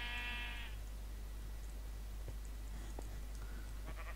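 A Minecraft sheep bleats once near the start, a short harmonic call, followed by quiet game ambience with faint scattered clicks and ticks.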